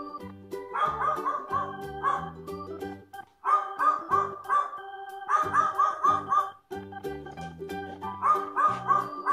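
A dog barks in short repeated bursts, close and clear, over a light musical background with brief pauses between volleys.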